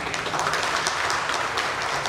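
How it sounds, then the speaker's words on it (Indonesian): A seated audience at a Central Java police briefing applauds Pak Ali, a continuous, close wash of many hands clapping with no voices over it. "tepuk tangan untuk Pak Ali"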